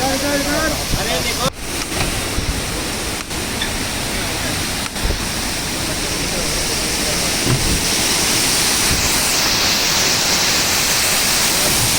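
A mountain waterfall on the Amarnath Yatra trail roars with a loud, steady rush of falling water, close by and continuous throughout.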